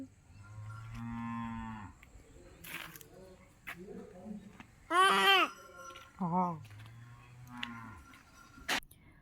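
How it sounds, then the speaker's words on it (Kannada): A one-year-old calf of a native Javari cow moos on a farm, giving long, loud, drawn-out calls near the start and end, with people talking between the moos. "ಇದು ಬಂದುಬಿಟ್ಟು ನಮ್ಮದು ಜವಾರಿ ಆಕಳಿಂದು ಕರು"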